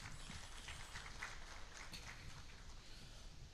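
Sustained applause from an audience at the launch of a local area network project for law courts, a dense steady patter of clapping with no voices over it.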